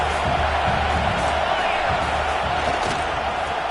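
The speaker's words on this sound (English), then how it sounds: "This crowd knows when to bring it." A football stadium crowd roars in a steady, dense wall of cheering and shouting throughout, loud and continuous with faint voices mixed in.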